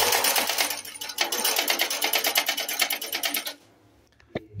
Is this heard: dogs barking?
no